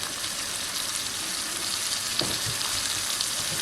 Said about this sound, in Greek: το αφήνουμε να σοταριστεί καλά